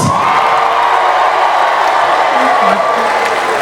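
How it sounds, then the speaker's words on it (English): A comedy show audience cheers and applauds loudly, a dense continuous roar of clapping, whoops and shouting that stays strong and steady the whole time. "Married people, make some noise"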